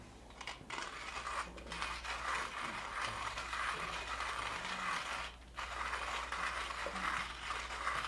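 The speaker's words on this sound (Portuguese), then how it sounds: "E ela vai moer de modo uniforme." Professional coffee grinder grinding beans, a steady loud mechanical whirring and rattling that runs for several seconds with two brief dips, heard alone without talk.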